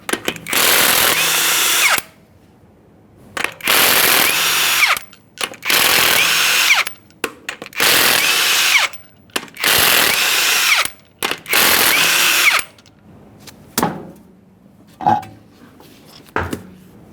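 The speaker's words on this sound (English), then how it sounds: "we're going to remove the wheel by removing all 6 of our 21mm lug nuts" Power impact tool spinning off the six 21mm lug nuts on a 2015-2020 Ford F-150 wheel, with about six loud, close bursts of drilling whir, each about a second long and separated by short pauses, then a few quieter ratcheting clicks at the end.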